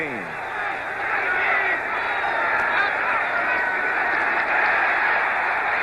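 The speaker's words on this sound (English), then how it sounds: "The crowd comes alive on 2nd and 17." A football stadium crowd at a 1977 Cowboys vs. Steelers game swells into a loud, sustained roar that holds steady for several seconds without a break.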